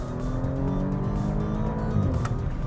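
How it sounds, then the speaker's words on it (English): An Audi S5 Sportback's six-cylinder engine accelerates hard with a steady, loud, close growl that holds throughout, with a brief rise near the end. "there's a sultry six-cylinder growl ready to serenade you when you put the power pedal to the ground"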